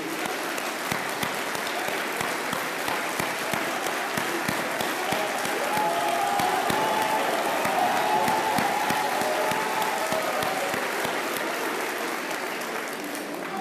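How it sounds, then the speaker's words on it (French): Sustained audience applause at a political gathering honoring Ousmane Sonko, a dense, steady wash of many hands clapping that holds loud for the full stretch, with faint crowd murmur mixed in. "On voit que ce sont des applaudissements volontaires et pas des gens qui applaudissent avec un fusil dans le dos."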